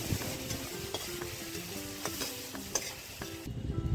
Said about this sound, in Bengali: আলুগুলোকে তেলের মধ্যে দিয়ে লাল করে ঢাকা চাপা দিয়ে লাল করে ভেজে তুলে নেব।